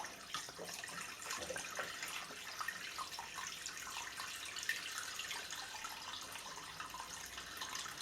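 Coolant drains from a vintage milling machine straight down into its coolant tank, a steady, continuous trickle and splash of liquid that carries on evenly throughout with no talking.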